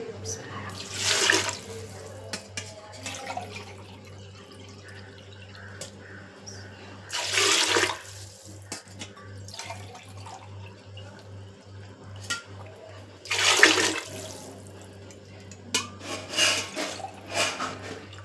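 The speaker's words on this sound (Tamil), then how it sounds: "1/2 சொம்புக்கு தண்ணி ஊற்றிக்கிறேன்" Water pours in three separate splashing bursts into a pot of rice, with quiet pauses and a low steady hum between them.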